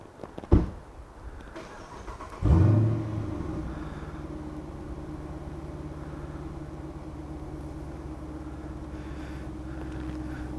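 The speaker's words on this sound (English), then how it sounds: "except for the car behind me that just cranked up and fixing to leave" A car starts up behind a lakeside overlook at Lake Winfield Scott near Vogel State Park, with a sharp crank followed by a steady low idle rumble that carries on to the end, close by with no talk.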